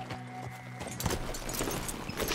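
Horses in Red Dead Redemption 2 clop their hooves in a steady, close rhythm, with a faint jangle of tack under the game's ambient sound.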